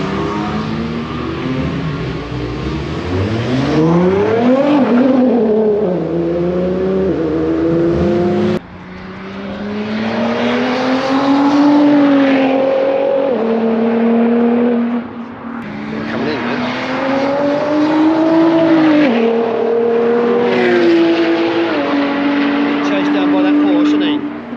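A modified GTR launches and races on a track, its engine climbing through gears in loud, sweeping pulls with brief shift breaks, heard as a series of strong accelerations from nearby.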